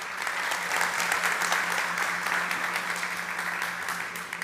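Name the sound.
audience round of applause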